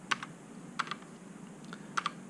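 Pichau P531 mechanical keyboard with Outemu Red switches being typed on in short clusters of two or three light clicky keystrokes, separated by brief pauses, close and fairly quiet over a faint hum.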